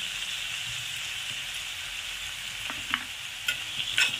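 Bombay duck fish curry masala with garam masala sautéing in a pan, a steady close sizzle with a few soft scrapes of stirring near the end.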